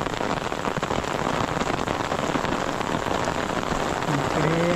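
Heavy monsoon rain pouring on rice paddies in a Konkan village during planting season, a loud dense continuous hiss of drops close by, steady throughout.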